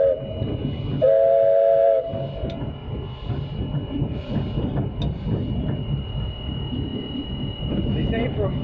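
A steam train at the Pioneer Tunnel line in Ashland, Pennsylvania, a roughly 1927-era locomotive, sounds a loud steady whistle blast for about a second over its chugging, rattling run, which continues close by as a person talks.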